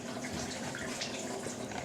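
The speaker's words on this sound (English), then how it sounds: "Why are you leaving the water running?" Tap water runs steadily at a kitchen counter during slime mixing, a continuous close hiss of flowing water with no break across the whole stretch.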